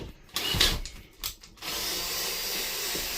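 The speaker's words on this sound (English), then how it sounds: "I'm going to take out 1, 2, 3, 4, 5, 6, 7, 8 screws." A power drill or driver whirs in short bursts and then runs steadily while backing screws out of an old 1974 camper, close and fairly loud.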